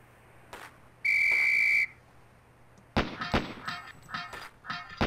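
A steady whistle blast from a Police Quest: SWAT shooting drill sounds for under a second, followed by a quick series of loud gunshots at close range.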